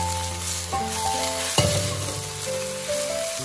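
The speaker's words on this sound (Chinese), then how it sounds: "翻炒至1分钟左右，把包菜炒至微微发软就可以了" Cabbage stir-fried in a hot wok for about a minute until slightly softened, a steady close sizzle with scraping stir strokes and a louder clatter midway, no talking.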